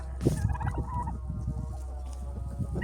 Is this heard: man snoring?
no